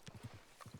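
Horse hooves clip-clop in the western video game RedM, a quick, even run of close hoofbeats with brief pauses, heard alone with no talking.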